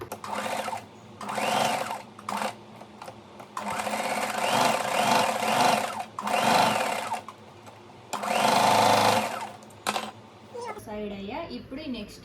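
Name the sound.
sewing machine stitching blouse corners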